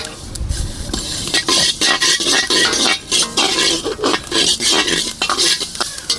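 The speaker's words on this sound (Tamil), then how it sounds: "வெந்தயம் நல்லா வறுத்துக்கலாம்" Fenugreek seeds dry-roasting in a pan give a steady close crackling hiss, while a spoon stirs with repeated rhythmic scrapes and light clinks against the metal, with no voices.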